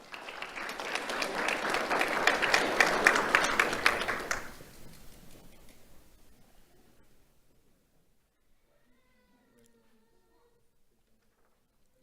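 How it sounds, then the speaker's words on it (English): Audience applause at a sheriff's office awards ceremony honoring a high school student: a dense burst of many hands clapping for about four seconds, then fading quickly into a quiet room with faint distant sounds. "Let's have a round of applause for Ellie Melton."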